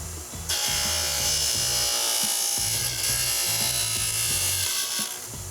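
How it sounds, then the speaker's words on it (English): A saw cuts through a graphite golf shaft while the shaft is rotated, a loud close high-pitched whine over rhythmic low chattering pulses, running steadily before easing off. "I'm going to turn this, rotate it through the saw so that I don't damage any of the fibers of the golf shaft"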